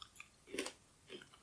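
Crunchy sweet candy being chewed close up, a few quiet crisp bites in quick succession with a faint crunch.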